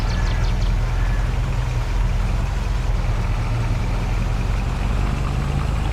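Semi-truck pulling a pace setter trailer in Farming Simulator 22 on a Missouri farm: a steady low diesel engine drone, constant and fairly loud with a rumbling hum and no speech.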